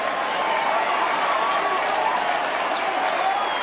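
Big roaring cheer from a football crowd at a 1994 Central versus Port Australian rules match, sustained and loud for several seconds, with a commentator talking over it.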